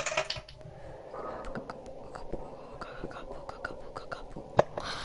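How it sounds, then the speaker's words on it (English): Rapid, uneven keyboard and mouse clicks from someone gaming, fairly faint and close, scattered through the whole stretch with soft whispering voices underneath. "Who's playing on keyboard and mouse? I can legit hear this."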